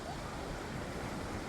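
Strong wind on Boracay beach, a dense, steady roar buffeting the microphone, with surf mixed into the constant broadband rush and no voices.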